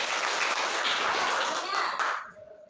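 A classroom of pupils clapping together, a dense, lively burst of applause lasting about two seconds before cutting off abruptly into near quiet.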